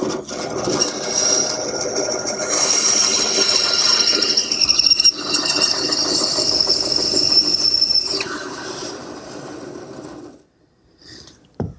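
A table saw whines steadily and close while wedges are freehand-cut from scrap wood, with the blade's tone shifting as it bites, then the saw winds down and goes quiet.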